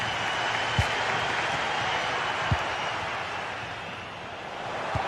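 Stadium crowd roaring in a video game football match, a broad sustained wash of cheering that rises and falls. A couple of short thumps sit in the mix.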